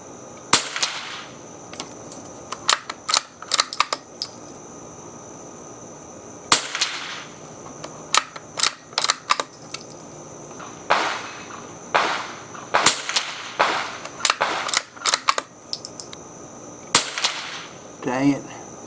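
A Savage MK II rifle firing at range targets: a long series of sharp, cracking shots, sometimes in quick clusters and sometimes spaced apart, over steady outdoor background noise.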